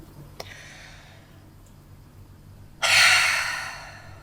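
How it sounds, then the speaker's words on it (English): Breathing in and out through the mouth during a yoga breathing exercise: a faint inhale, then a strong, close, breathy exhale that fades slowly, with no talking. "Inhale through the mouth."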